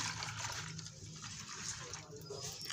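A glass of water pours into a cooking pot holding a cinnamon stick for chicken shami kabab, making a faint, steady rushing sound that carries through the whole moment.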